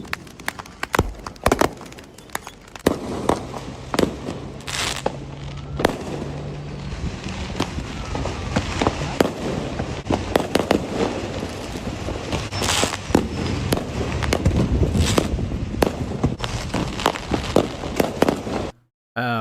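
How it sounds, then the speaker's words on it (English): Fireworks burst over and over, a dense run of sharp cracks and booms at varying distances with crackling trails between them, loud and sustained with no talking. "I've actually never seen fireworks before, so I really appreciate this footage."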